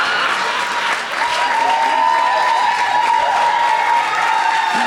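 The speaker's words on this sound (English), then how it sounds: "No, let him clap." Loud, steady applause from a comedy show audience in South Africa fills the space, dense clapping holding evenly throughout with a faint murmur of crowd underneath.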